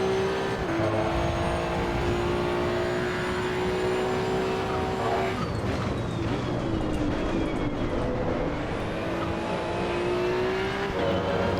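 A Maserati GT2 race car in Assetto Corsa EVO drives at speed. Its engine roars steadily and loudly throughout, the pitch climbing and dropping with gear shifts, and no one speaks.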